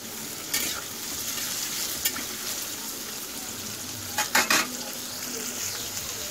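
Paneer fries in a pan with a steady close sizzle, broken by a few sharp spoon scrapes and clinks, most clustered near the end.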